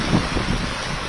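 Heavy rain driven by wind in the Arani area of Tiruvannamalai district, Tamil Nadu, heard as a dense, steady hiss of falling water with a low gusty rumble underneath, loud and continuous throughout.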